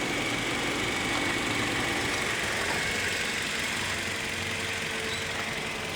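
The engine of a used car runs steadily, giving a continuous close rumble with a busy mechanical hiss that stays even for the whole stretch, with no voices.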